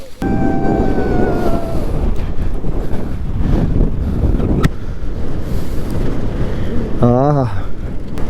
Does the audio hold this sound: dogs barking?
no